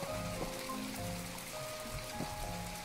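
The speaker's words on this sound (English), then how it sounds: "it's raining out, apparently" Steady rain falls in the video game My Time at Portia, a continuous broadband hiss with soft patters, alongside quiet in-game tones and a low hum, with no talking.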